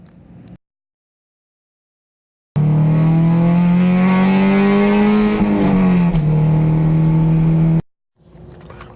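A Honda Civic hatchback EG engine revs hard and loud for about five seconds, its pitch climbing steadily before dropping off, with silent gaps before and after the burst.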